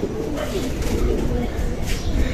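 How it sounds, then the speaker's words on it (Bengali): Pigeons at a home loft where young birds are learning the house, with soft cooing and bird calls running steadily through the clip over dense, busy outdoor background noise. "এটা আমাদের বড় কবুতর এটা"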